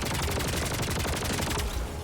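Automatic gun turrets firing in the video game Helldivers 2; a dense, continuous rapid-fire burst of gunfire, loud and unbroken, with no talk.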